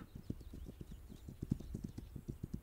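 Horse hooves clip-clop in the video game This Land Is My Land, a steady, evenly spaced trotting rhythm of close hoofbeats that continues throughout.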